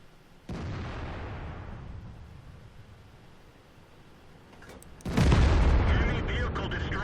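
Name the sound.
tank gunfire and explosion destroying enemy vehicle, World of Tanks video game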